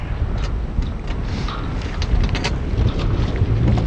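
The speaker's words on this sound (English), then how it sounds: "Oh, got a big gust coming in here." Heavy wind gusting across Lake Lanier while sailing buffets the microphone with a loud, continuous low rumble and roar that swells and surges without letup.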